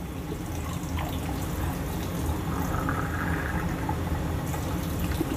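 Water is poured from an eggshell into beaten eggs in a kitchen while a steamed egg with crab meat is prepared. The liquid trickles and splashes softly and continuously against a low background hum.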